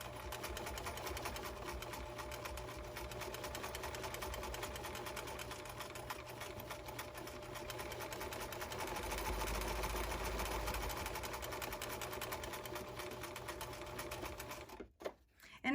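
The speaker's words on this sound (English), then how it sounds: "And now I'm going to add the top stitch to close in the opening." Sewing machine running a top stitch to close a fabric garden pouf, a continuous quiet mechanical whir with a fast needle rhythm that stops abruptly near the end, followed by a few handling knocks.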